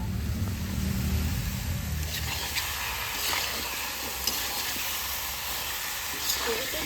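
Ginger-garlic paste and ground spices fry in a pan with a loud, steady hiss and sizzle, a low rumble fading early and a few scraping strokes.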